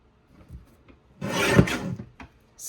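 Paper print trimmed to size on a paper trimmer, a faint shuffle then a single rasping slide of the blade lasting under a second, close and quiet.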